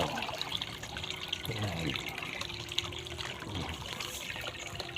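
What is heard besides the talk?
river water flowing, Batang Sulop, Davao del Sur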